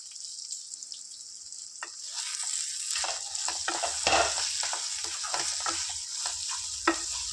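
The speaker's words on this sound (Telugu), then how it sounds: "మీడియం గ్యాస్ మీడియంలో పెట్టి ఇలా మధ్యలో మధ్యలో కలుపుకుంటూ వంకాయను ఉడికించుకోవాలి" Eggplant curry cooks over a medium gas flame, starting as a quiet background hiss, then building into a sizzling bubble broken by repeated soft scraping and knocking strokes from the stirring spoon, with no talking.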